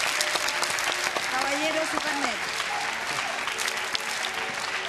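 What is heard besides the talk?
audience applause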